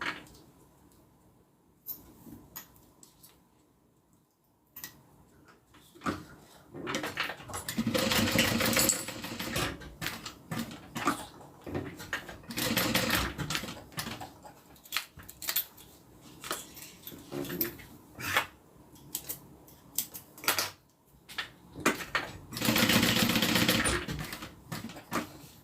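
A sewing machine stitches down a double fold on a small zip-around wallet, running in repeated short bursts of varying length with brief pauses and faint handling noises between them.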